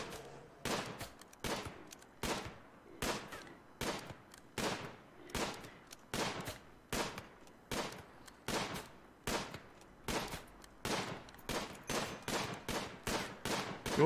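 Colonists firing at game animals while hunting in RimWorld: a steady run of sharp, fairly faint gunshots, evenly spaced at roughly two per second for the whole stretch, with no talk.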